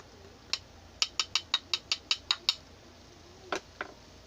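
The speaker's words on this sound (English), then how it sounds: "I'm going to take my reserved marinade and I'm going to add in 1 tablespoon of" A whisk stirs cornstarch into a reserved pork marinade, making about ten quick, evenly spaced metallic clicks against the bowl, then a pause and two softer taps, close and clear with no talking.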